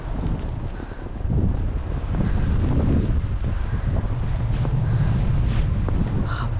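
Strong wind gusting during a snowstorm in Canada, a loud, constant roaring rush buffeting the microphone without a break.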